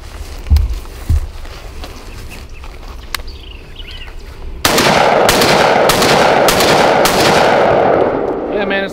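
A Mossberg 930 12 gauge shotgun fires at a range in several loud, close blasts spaced about half a second apart, preceded by quieter handling clicks and thumps.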